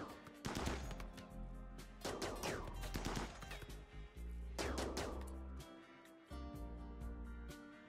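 Characters trade gunfire in RimWorld, with repeated clusters of sharp shots arriving in bursts between steady background music, fairly quiet overall and free of talk.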